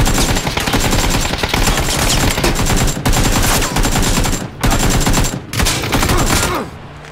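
Dense automatic gunfire roars almost without pause in PUBG, loud and close, broken only by a few very brief gaps.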